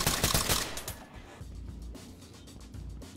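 Gunfire in the tactical shooter game Ready or Not: a dense, loud burst of rapid shots up front, then a quieter stretch of scattered booming shots and rumble.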